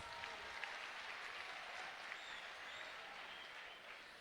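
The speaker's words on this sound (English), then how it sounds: "Clap for yourselves." Distant, faint applause from a seated audience at an inspirational event in Tamale, an even wash of clapping that holds steady for the whole stretch with no talk over it.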